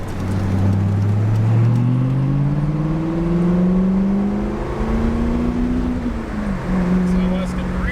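A C5 Corvette's V8 with modified mufflers revs steadily, its engine pitch climbing and dropping across several throttle sweeps, loud and close, with brief talk over it.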